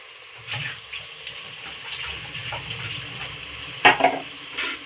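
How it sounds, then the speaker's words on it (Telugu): Veg pulao with green peas is stirred in a pot, making intermittent scraping and clattering strokes with a few sharper knocks over a low background. "ఇప్పుడు దీన్ని కూడా మొత్తం కలిపేసుకోండి. బాగా కలవాలి."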